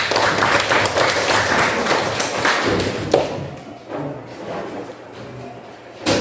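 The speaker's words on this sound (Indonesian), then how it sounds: "beri tepuk tangan untuk kelompok" Students in a high school classroom at SMAN 2 Busungbiu applaud a presenting group, a dense burst of clapping for about three seconds that thins into scattered taps and fades out.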